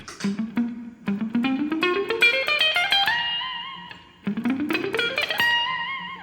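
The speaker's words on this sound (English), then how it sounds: "we're gonna play the lick with a clean tone." Electric guitar lick played with a clean tone, fast ascending runs of picked notes climbing in pitch, repeated twice with ringing sustained notes at the end of each phrase, loud and alone.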